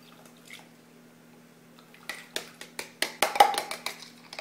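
A spoon stirring dry waffle ingredients in a bowl, soft scraping and light clinks that start quietly and then come as a quick, irregular run of close taps.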